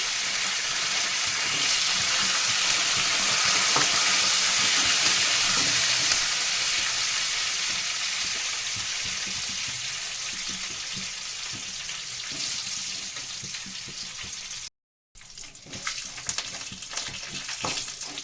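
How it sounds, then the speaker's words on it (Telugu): Curry leaves, dried red chillies and tempering spices sizzle and crackle steadily in hot oil for a coconut-coriander chutney, a loud continuous frying hiss with a brief gap near the end. "ఈ ఎండుమిర్చి, ఈ పోపు దినుసులు, ఈ కరివేపాకు చక్కగా బ్రౌన్ కలర్ వచ్చే వరకు ఎర్రగా కొంచెం బాగా వేగాలండి."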